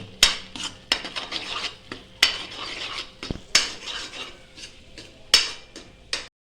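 A spoon scrapes and clinks repeatedly against a pan as spice masala is stirred in oil for chicken rassa, sharp metallic strokes in uneven bursts over a faint background sizzle, close up with no voices.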